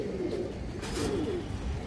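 A female pigeon coos close by, a low soft repeated warble running continuously over a brief stretch without talk.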